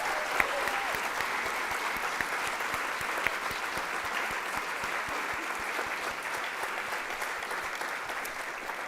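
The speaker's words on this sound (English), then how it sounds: "A round of applause again for our talkers this evening" Audience applause for the evening's speakers at a talks event, a steady, dense wash of many hands clapping that holds at an even level throughout.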